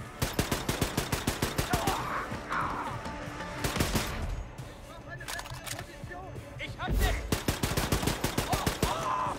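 Rapid automatic gunfire in the Wolfenstein video game, close and loud, in long rattling bursts with a couple of heavier blasts and brief pauses between them.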